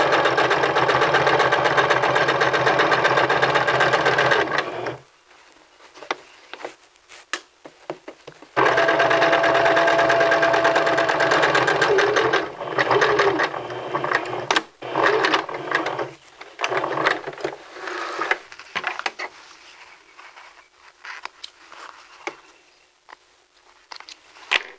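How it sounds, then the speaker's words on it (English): Sewing machine stitching a men's vest, running in loud close bursts of rapid mechanical whirring separated by pauses for pivoting, then shorter intermittent runs and clicks as stitching continues. "we're going to pivot and then continue sewing"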